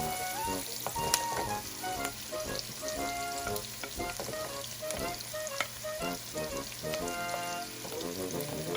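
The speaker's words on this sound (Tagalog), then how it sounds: "With potato, we have to stir it." Potato stir-frying for luncheon meat fried rice, a continuous close sizzle with crackles and pops, joined by scraping stirring sounds and faint background music, with no talk.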